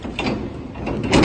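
Metal truck door being opened or shut, a short run of rattling, sliding mechanical clatter with a louder clunk near the end, close by and with no talk.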